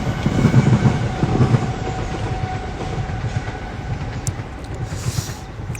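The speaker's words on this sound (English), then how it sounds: "Sorry, I'll wait for that train." A train rolls past nearby with a steady rumbling clatter of wheels on rails, fairly loud and continuous throughout, swelling slightly at the start.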